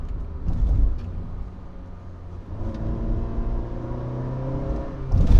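A Honda City with a CVT gearbox revving as it accelerates, the engine droning close and loud, easing briefly, then climbing in a steady rising whine, with a sharper surge at the very end.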